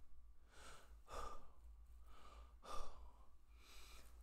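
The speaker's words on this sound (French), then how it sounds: "Oh, je suis essoufflé." Heavy, winded breathing from a man out of breath, a series of close, loud gasping inhales and exhales in an uneven rhythm with no talking.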